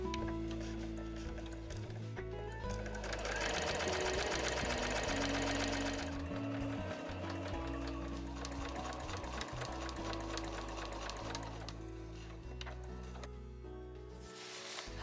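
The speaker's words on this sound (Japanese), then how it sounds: "両側が留まったところで端から1センチを縫います" Sewing machine stitching cotton Marimekko fabric for a tote bag seam 1 cm from the edge, a fast steady mechanical whirr and clatter running continuously, briefly pausing and restarting near the end.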